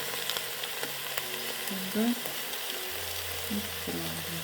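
Rice stirred with a silicone spatula in a multicooker while making chicken pilaf, giving a soft, quiet sizzle with faint scraping and stirring touches, close and without talk.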